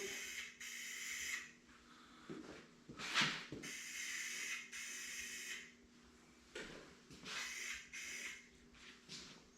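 Spray paint, a light coat of black, goes onto parts of a 1970 Ford F-250 dually in several short and long hissing bursts with brief pauses between them, close and fairly loud.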